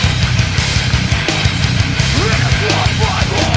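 Loud, dense metalcore band music plays, with distorted guitars over pounding drums in a full, constant wall of sound.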